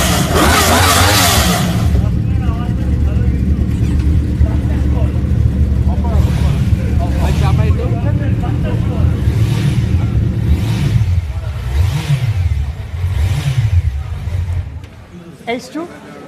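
A superbike engine revs hard with a raspy exhaust note, held loud and steady, then rises and falls in several short throttle blips before cutting off near the end.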